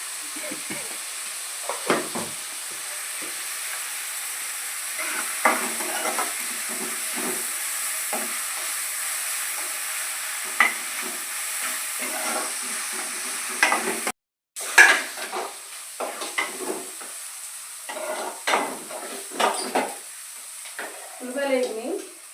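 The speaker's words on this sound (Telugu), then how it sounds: "ఉల్లిపాయలు మగ్గుతాయి" Onions with coarse salt frying and being stirred in a pan for a dried prawn curry, a steady close sizzle with scraping stir sounds throughout and a brief break partway.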